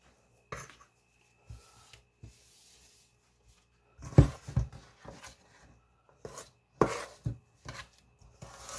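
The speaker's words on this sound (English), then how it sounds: "I'm just going to hand mix this" Thick, slightly sticky cookie dough is worked by hand in a bowl. Intermittent muffled thuds, squishes and scrapes come in short bursts separated by quiet pauses.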